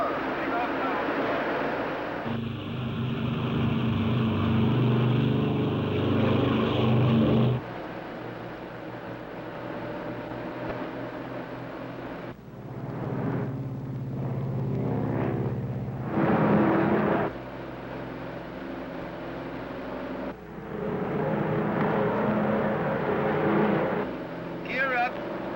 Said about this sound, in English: Ready for takeoff. Takeoff power. Takeoff now.